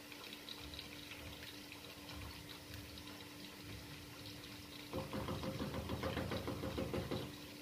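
Hot water pours into a pot of simmering speckled coroado beans, a steady trickle over low background hiss that swells into a fuller, louder gush partway through, with no speech.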